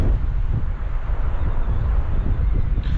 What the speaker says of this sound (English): Well, the wind really just started picking up.